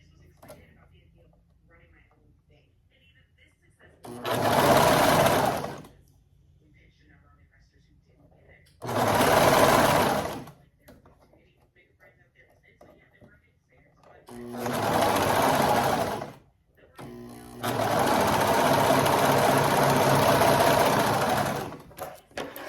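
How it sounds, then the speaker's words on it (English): Sewing machine stitching a shirt cuff, running in four separate bursts of fast, steady mechanical whirring, each a few seconds long, the last one longest, with quiet pauses in between. "Tug a little bit, start sewing."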